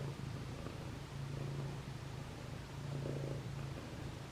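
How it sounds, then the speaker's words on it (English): Gray, a pet cat, purrs softly and close, a continuous low rumbling hum that pulses gently with each breath, with faint rustling and no voices. "Listen to the purring."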